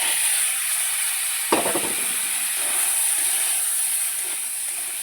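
Soaked pointed gourds dropped into a pan of frying potatoes, a sudden burst of sizzling at the moment they hit the hot oil, then a steady hiss of frying continuing underneath.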